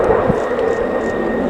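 Saab JAS 39C Gripen jet fighter of the Swedish Air Force rolling through aileron rolls at an air show display, a steady loud jet engine roar held without a break.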